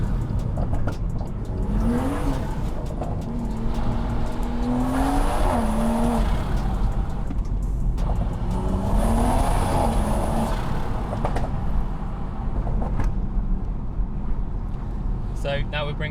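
A tuned stage 2 plus BMW M140i revs and accelerates, its engine note rising and falling in two loud pulls with crackling exhaust pops and bangs, close and sustained throughout.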